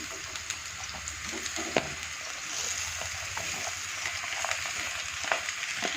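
Ridge gourd pieces fry in a pan with a steady, close sizzle and crackle, with occasional scraping stirs and small pops throughout.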